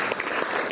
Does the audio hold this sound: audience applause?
yes